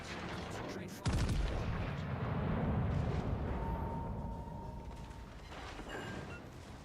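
Naval gunfire from warships in World of Warships: Legends: one sudden, loud heavy boom erupts early and rolls into a long rumbling tail over a busy battle din, with faint voices in the background.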